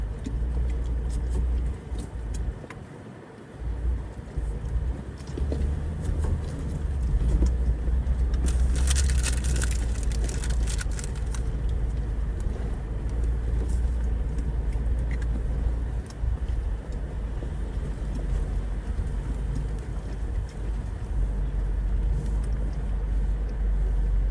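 An off-road vehicle engine drones in a continuous low rumble while driving, with a brief rougher surge midway and no speech.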